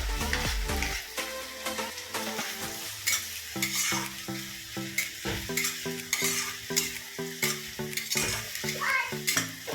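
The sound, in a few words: onion and capsicum frying in oil in a kadai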